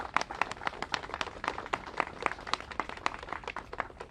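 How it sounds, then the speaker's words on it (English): An audience applauds federal employees, a fairly faint crowd of many hands clapping in a dense, even patter that continues steadily throughout. "Let's give them all a big round of applause."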